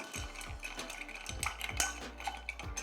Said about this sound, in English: we're going to give it a bit of a stir